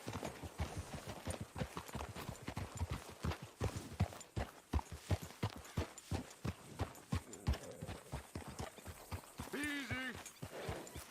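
Rapid, rhythmic hoofbeats of a horse clip-clopping nearby in the video game Red Dead Redemption 2, steady and continuous, with a horse whinny near the end.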